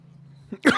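A single sharp cough bursts out near the end, preceded by a softer throat-clearing sound over a low steady hum.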